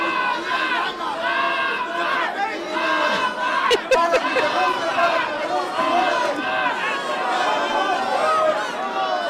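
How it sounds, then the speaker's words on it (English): Boxing crowd inside the Chumash Casino roaring and chattering in a dense, continuous hubbub, with a few sharp shouts and bursts standing out midway, loud and sustained throughout. "Crowd coming alive here inside the Chumash Casino, trying to ignite their King of LA."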